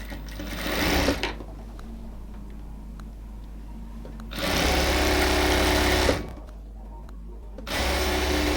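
A sewing machine stitches the side seam of a dress made from a sari, running in three loud, steady bursts separated by short pauses.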